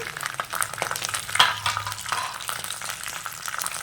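Cashews and raisins fry in ghee with a soft, constant sizzle, broken by brief scrapes and clinks as they are stirred in the pan.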